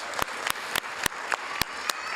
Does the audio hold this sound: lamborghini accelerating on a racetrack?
no